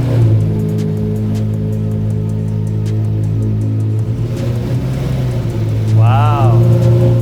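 A Lamborghini Murciélago V12 idles with a deep, steady, very loud rumble, then swells briefly toward the end as it is revved.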